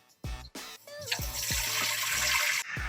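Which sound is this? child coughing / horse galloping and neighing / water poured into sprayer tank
water poured into sprayer tank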